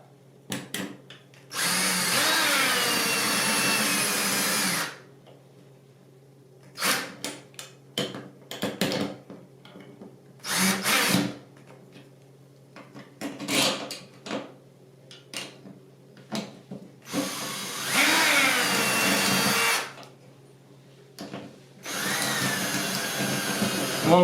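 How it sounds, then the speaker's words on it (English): A power drill whirs in several bursts while a towel bar is mounted, some long and steady, others short and stuttering, with clicks and handling noises between them. "Okay, I got my drill."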